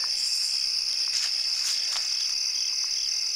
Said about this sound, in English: You guys can hear the crickets chirping.